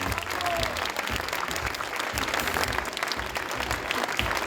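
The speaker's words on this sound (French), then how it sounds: "Applaudissements pour Fabrice, s'il vous plaît, mesdames et messieurs." Applause from an audience at a Paris chocolate competition prize ceremony for winner Fabrice, a sustained, even wash of clapping from many hands, moderately distant and steady throughout.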